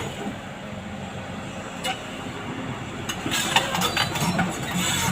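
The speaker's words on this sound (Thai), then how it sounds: "เสียงปั๊มนี่ดังสุดยอดเลย" A steady engine drone runs throughout, with a low rumble and brief mechanical clatter and hiss rising toward the end.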